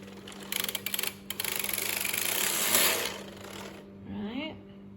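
The carriage of a Brother KH910 electronic knitting machine, under capacitor repair and malfunctioning, runs along its belt with a quiet mechanical clatter and whirring hum, and a brief voice follows at the end.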